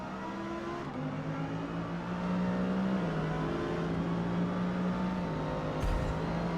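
Race cars in Forza Motorsport S class at Silverstone, including a Lexus LFA, Nissan GTR, Audi and Mercedes, roar steadily with engine pitch shifting through gear changes, a continuous loud game engine drone without voices.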